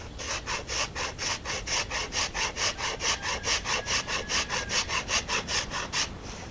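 A wooden rabbit stick, a non-returning boomerang, is thinned by hand with a cutting tool in steady back-and-forth strokes, about two dozen even rasping passes close up, with no talking.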